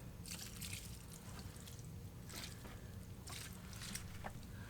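Water is poured into a worm bin, a steady low wash of liquid with intermittent splashing and trickling bursts, moderately quiet and close, with no talking.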